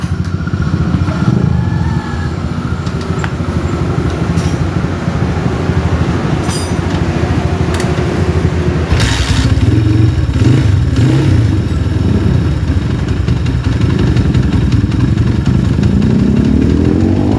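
Honda GL100 motorcycle being kick-started and then idling: a loud, steady engine drone runs throughout with a rough, pulsing texture and a few clanks, close to the microphone.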